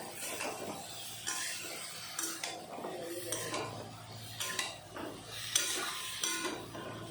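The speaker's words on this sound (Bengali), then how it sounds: "এখন দিয়ে দেব কেটে রাখা কপি আর আলু। মশলার সাথে ভালো করে ভেজে নেব।" Kohlrabi and potatoes fry with spices in a pan, giving a steady close sizzle broken by repeated scraping stirs of a utensil against the metal.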